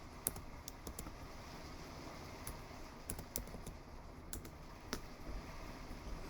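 Quiet, close typing on a computer keyboard, scattered key clicks in short irregular bursts with a few sharper taps over a faint steady hiss, no talking.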